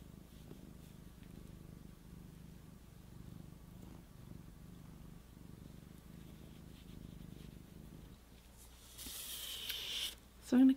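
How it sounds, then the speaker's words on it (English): A cat purrs softly and steadily close to the microphone in a low rhythmic rumble, ending with a brief rustle and a sharp noise. "Sorry, this is your moment of kitty purrs."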